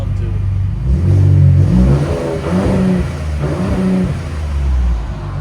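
A Ford Raptor's 3.5L EcoBoost V6 with a Magnaflow exhaust revs in rising and falling pulls, a deep close exhaust drone swelling and easing several times, with a voice talking over it.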